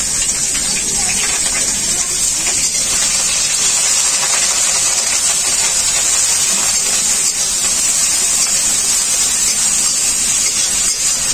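Ground onion paste hits hot oil in a pan with whole coriander, cardamom, cloves and mace for a paneer curry, giving a loud, steady, hissing sizzle throughout with no talking.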